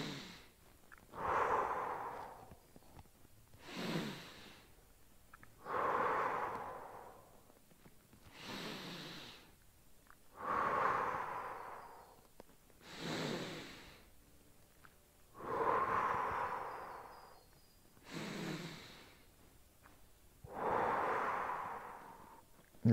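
Slow, deep breathing during a side yoga stretch with the arm drawn up beside the head, five long inhale-exhale cycles in an even rhythm, close and fairly soft with airy exhales, no talking.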